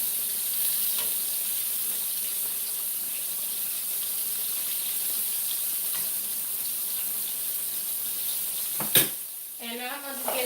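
Green tomato slices frying in a pan give a steady, close sizzle, with one sharp clack near the end as they are flipped and a brief voice right after.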